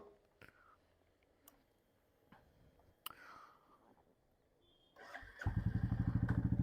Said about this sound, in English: I'm just going to do a small cold start. It's very important for the life of the engine.